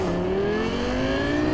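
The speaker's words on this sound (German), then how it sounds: "Können wir bitte an dieser Stelle auch den neuen Motorensound des Rayfield Caliburn hervorheben?" The Rayfield Caliburn car's engine in Cyberpunk 2077 hums steadily and loudly, its tone climbing slowly as it accelerates without a break.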